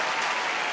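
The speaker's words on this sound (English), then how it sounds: "Can you give us an applause?" Brief, steady burst of dense applause from an audience at a live-streamed lockdown performance, uniform and fairly loud for under a second.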